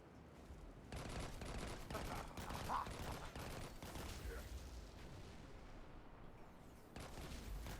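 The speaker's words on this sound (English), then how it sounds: "Who's shooting at me?" Bursts of video game gunfire crackle through a mission with mafia enemies, a continuous rattling volley at fairly low level filling most of the stretch.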